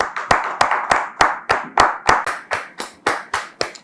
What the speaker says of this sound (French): Merci de recevoir nos visiteurs de la soirée sous vos applaudissements,